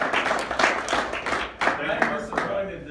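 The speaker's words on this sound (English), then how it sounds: "can we give Mark a round of applause" An audience at a hacking presentation claps in a short burst of applause, dense irregular hand claps close by with a voice talking over them.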